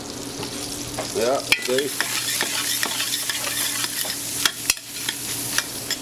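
Diced ham browns in a pot with a soft sizzle, stirred by a spoon that scrapes and knocks against the sides in irregular strokes, with a brief spoken remark in the middle.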